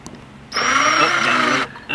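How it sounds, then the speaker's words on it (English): A power drill fitted with a reverse bit, used to back out a stuck part on a floor sander, whines loudly for just over a second and then stops, with quieter handling before and after. "Run your drill in reverse"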